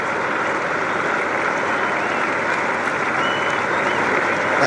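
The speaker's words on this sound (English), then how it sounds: "listen to the crowd. Their appreciation of such a great innings." A cricket stadium crowd applauds Brian Lara's innings of 182 in a Test match in Australia, a broad, distant wash of clapping and crowd noise that stays steady and unbroken.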